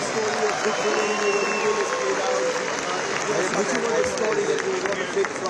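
An audience at an evening event applauds a dancing band, a steady wash of clapping and crowd noise that runs throughout, with a voice speaking over it.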